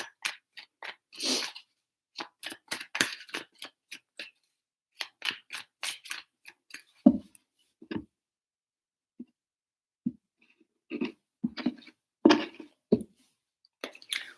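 Tarot cards being shuffled three times, a run of crisp riffling and slapping bursts with short pauses between them, close up and alone with no talking.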